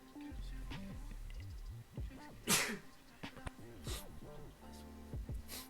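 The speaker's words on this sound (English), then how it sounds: "I'm gonna sneeze." A sharp sneeze bursts out midway over a busy mix of tonal electronic-sounding noises and clicks, with softer breathy bursts later.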